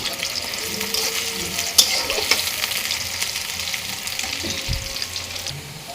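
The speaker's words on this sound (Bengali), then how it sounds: "পেঁয়াজ কুচি দেওয়ার পরে কিছুক্ষণ নেড়ে চেড়ে নেব" Chopped onion sizzles steadily in a hot pan for a beef dish, a broad continuous frying hiss with a few sharp clicks as it is stirred.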